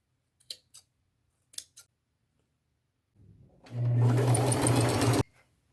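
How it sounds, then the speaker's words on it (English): Sewing machine stitching stretched elastic onto the inside of a pant leg, a few soft clicks first, then a brief low start-up and a loud, steady mechanical whir for about a second and a half, up close. "I'm going to measure up 15 inches, stretch and sew the elastic"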